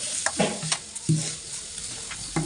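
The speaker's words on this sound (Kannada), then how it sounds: "ಎಲ್ಲದನ್ನು ಹಾಕಿ ಚೆನ್ನಾಗಿ ಫ್ರೈ ಮಾಡ್ತಾ ಇದ್ದೀನಿ" Ingredients, including tamarind and tomato, fry in a pan for a sambar, with a soft sizzle and a few short stirring scrapes, close and fairly faint.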